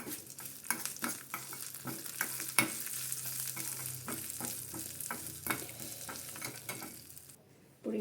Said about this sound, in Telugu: ఇప్పుడు ఈ పోపుని ఇందులో వేసేసుకున్నాం